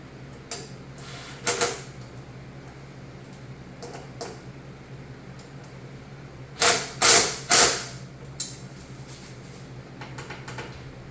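A bolt being tightened on the rear shock of a 2023 Honda Navi during a 265mm NCY Performance shock swap, with short mechanical ratcheting clicks in a few bursts, the loudest cluster near the end, over a quiet background.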